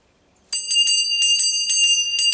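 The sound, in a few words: bell ringing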